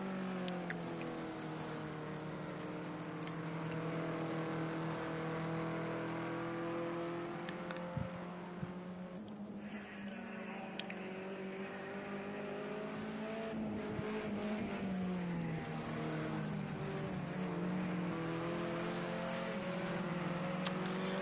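Race cars on the final lap at Willow Springs in a racing game, with steady close engine drone and shifting revs rising and falling over about twenty seconds, plus faint tire noise, and no voices.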